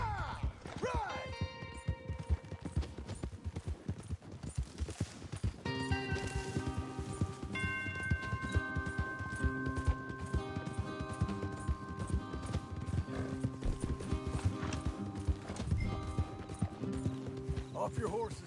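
Horses galloping in Red Dead Redemption 2, steady clip-clop of hooves running beneath a game soundtrack with music and occasional character voices throughout.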